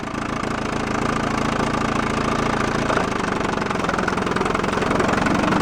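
A 1956 Evinrude outboard motor bought at a yard sale runs steadily after a cold start, a loud, close, continuous idling drone that shifts slightly in tone partway through.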